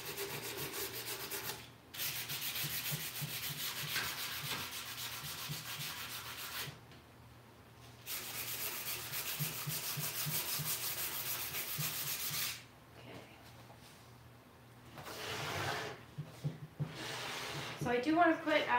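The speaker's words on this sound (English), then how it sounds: "use like a 220 grit and just pass it over the surface" Hand sanding painted wood on an Art Deco magazine rack with 220 grit sandpaper: steady back-and-forth rasping strokes in long runs with short pauses, close and clear, with someone talking throughout.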